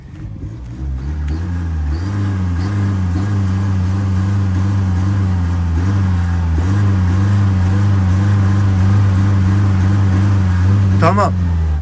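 A car engine held at steady mid revs around 3000-4000 rpm with a few rises and dips, loud and close, while people talk nearby; the owner is checking it for black or blue exhaust smoke during a used-car inspection.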